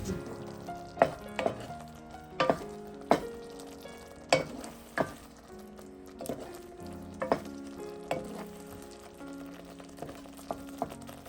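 Irish potato porridge with crayfish powder and bouillon being stirred in a pot on medium heat, steady soft sizzling and bubbling broken by a series of sharp spoon knocks and scrapes against the pot, close and quiet.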